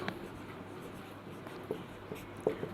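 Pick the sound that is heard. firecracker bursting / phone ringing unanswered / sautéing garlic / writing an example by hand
writing an example by hand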